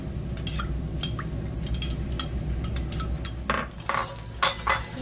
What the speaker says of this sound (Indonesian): Aduk-aduk supaya sausnya tercampur dengan rata.